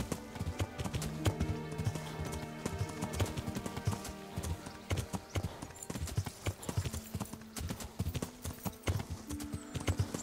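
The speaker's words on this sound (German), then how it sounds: "Braves Pferdchen." Horse hooves clip-clop steadily in Kingdom Come: Deliverance, a brisk, even rhythm of hoofbeats on ground as the horse walks and trots across hilly countryside, with no talk over it.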